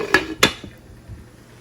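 A metal lid set onto a cooking pot of loitta dried fish curry: two bright clanks in quick succession, close and clear, followed by a faint ringing settle and quiet.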